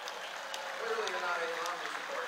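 Audience applause at a 2012 political event, a steady wash of clapping held at a fairly constant level throughout, sounding moderately distant with some crowd murmur mixed in.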